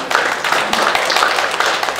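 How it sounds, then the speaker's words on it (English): Audience applause at a political launch event: dense, steady clapping from a crowd, fairly loud and sustained throughout with no break. "Can I get a round of applause for young Alejandra"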